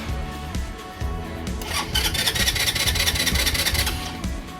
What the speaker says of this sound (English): Let me see if it'll crank.